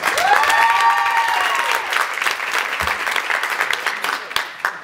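Wedding reception guests applauding the bride and groom, a full burst of clapping with a few cheers over fading music tones, tapering toward the end.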